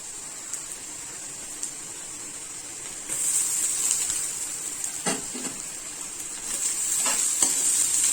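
Fresh grated coconut frying in a pan for a Malvani chicken rassa gives a steady soft sizzle, growing louder and brighter partway through, with occasional stirring scrapes.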